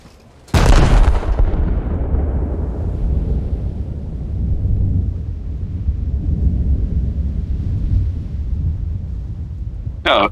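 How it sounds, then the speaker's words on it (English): A heavy HE shell salvo fires from the battleship Arizona in World of Warships, one sudden loud booming blast that rolls and rumbles for several seconds before fading, with a sharp click near the end. "seeing how many HE salvos from Arizona it takes to Hullbreak the"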